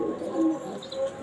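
Pakistani pigeons, golden and teddy types, give a few soft, low cooing calls at close range, short murmuring coos rising and falling against a quiet background.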